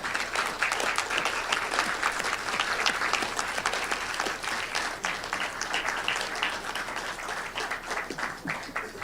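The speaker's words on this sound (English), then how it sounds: "I want to give our panelists a round of applause" Audience at a Juneteenth celebration panel discussion applauding the panelists: a steady, dense round of many hands clapping, sustained and even throughout, with no talk over it.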